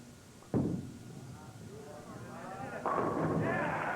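Tennis balls are struck during a final match, giving two sharp thumps of racket on ball about two seconds apart amid low court ambience and faint crowd noise.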